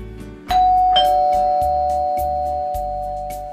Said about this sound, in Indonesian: tiba-tiba bel pintu berbunyi.